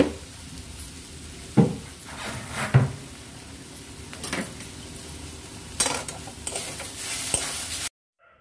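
Ash gourd cooked with mustard and poppy seed paste being stirred in a pan, with a few distinct spoon clinks and scrapes against the metal amid soft sizzling, close and moderately quiet, no voices.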